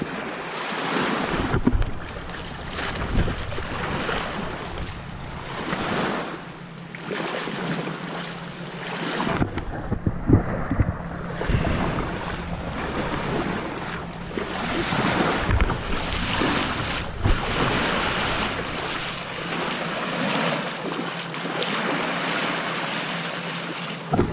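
Ocean surf rolls in and topples over in steady, repeating breaks, a continuous wash of close, fairly loud water with rumbling wind on the microphone and no talking.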